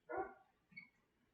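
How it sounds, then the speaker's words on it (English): A dog gives one short, fairly faint bark in the background of a quiet indoor room, followed by a softer, brief yelp-like sound a moment later. "My dog is barking in the background."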